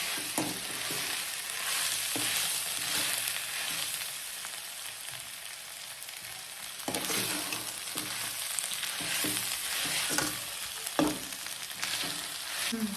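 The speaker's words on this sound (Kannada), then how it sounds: "ಟೊಮೊಟೊ ಹಾಕ್ಕೊಂಡು ನೀಟಾಗಿ ಫ್ರೈ ಮಾಡ್ಕೋಬೇಕು." Tomatoes fry in a pan for mutton chops, a steady close sizzle broken by repeated scraping stirs with no talk over it.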